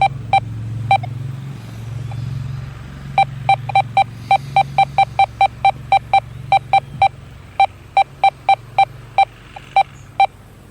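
A Deus 2 metal detector emits short, evenly pitched beeps, a few at first and then rapid repeated bursts, over a low rumbling background with no talking.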